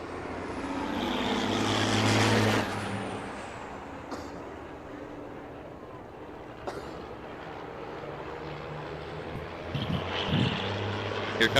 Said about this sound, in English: He's in a 1976 Mack R600, which was converted to an R700 years ago.